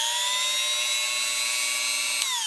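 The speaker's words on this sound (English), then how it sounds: "that's how loud the rotary tool is" A rotary tool spins at a high, steady whine for a couple of seconds while set to drill down dentures, close and fairly loud on its own, its pitch dropping slightly near the end.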